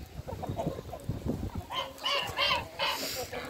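Red laying hens cluck nearby in a backyard flock, giving a series of short, throaty clucks and a few louder, higher squawks in irregular bursts over low background noise.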